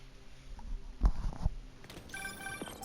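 Telephone ringtone in Marvel's Spider-Man 2, a few thumps and soft noise giving way to a clear electronic ringing pattern in the final second, moderately loud.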